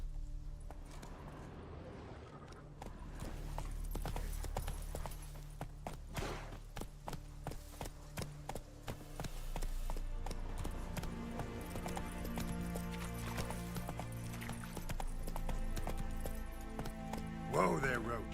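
Roach, a horse in The Witcher 3, trotting with steady clip-clop hoofbeats over game ambience and background music, with talking throughout.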